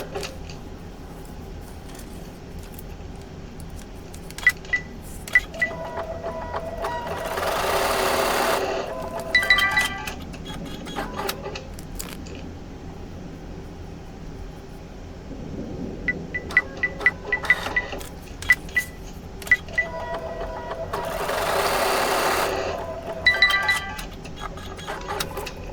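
A SEWTECH embroidery machine stitching through fabric held in a magnetic hoop runs in two sustained bursts of rapid buzzing, separated by quieter stretches filled with small clicks and taps.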